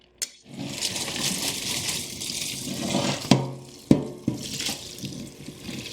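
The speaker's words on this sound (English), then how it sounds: "Strain the spaghetti. And give it a quick rinse." A kitchen tap runs steadily over freshly strained spaghetti in a sink, a close, continuous rushing splash broken by a few sharp knocks of a pot or colander, with no voices.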